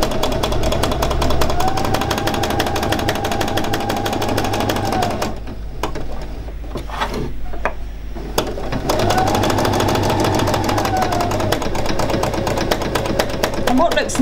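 A sewing machine stitches raw edge applique in free machine embroidery, its needle hammering in a fast, loud, continuous rhythm that pauses briefly midway while someone talks, then resumes.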